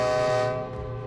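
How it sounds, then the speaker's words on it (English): A train horn blares loudly over the low rumble of a passing train at night, one sustained harmonic blast that fades slightly toward the end. "the train rumbles by, laying on the horn like no tomorrow"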